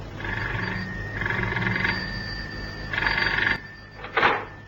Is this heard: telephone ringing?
yes